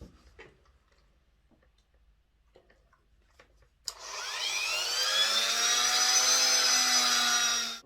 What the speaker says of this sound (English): So I'm just going to use my rotary tool to give the wheels a clean.